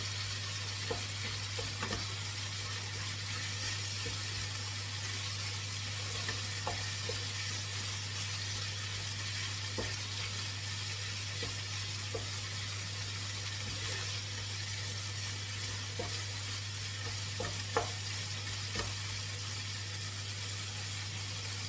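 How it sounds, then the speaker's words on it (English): Tofu and mashed potato pie filling fries in a pan with a steady, soft sizzle and occasional faint stirring clicks over a constant low hum. No one speaks. "let this fry for a couple of minutes"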